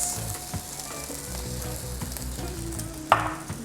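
Green onions sizzle and crackle steadily in a hot frying pan for rasta pasta, a continuous close frying hiss with a brief sharp spatter burst near the end and faint background tones.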